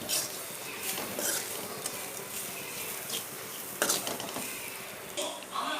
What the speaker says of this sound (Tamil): இப்போ தேங்காவை நம்ம லைட்டாக வறுத்து எடுத்துடலாம்.